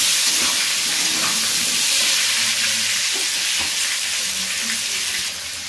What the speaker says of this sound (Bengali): বেগুন আলু দিয়ে আলুগুলোকে ভেজে নেবো।